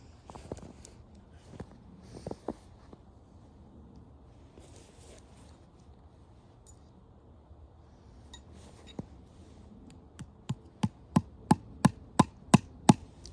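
Sharp tapping strikes, a few scattered early, then a steady run of evenly spaced loud hits near the end, like hammering something into wood.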